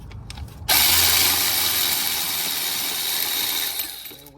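A power tool spinning out the starter bolt on a Honda Accord 2.4, a few short taps and then a loud, close, continuous whir for several seconds before it winds down.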